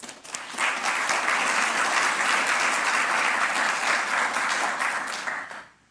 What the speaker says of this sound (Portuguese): queria também uma salva de palmas para esses empresários, essas empresas que estão suportando todo esse trabalho aí